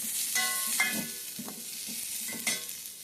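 Onions fry in a pan for egg curry, a steady sizzling hiss broken by several distinct metallic stirring scrapes and clinks from a spatula, up close and without voices.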